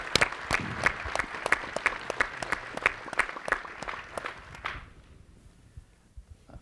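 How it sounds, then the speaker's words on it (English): Applause at a nanotechnology panel event honoring a Nobel Prize–winning scientist, a fairly sparse round of distinct claps that is steady and moderately loud for about five seconds, then stops abruptly into quiet room tone. "she deserves a big round of applause"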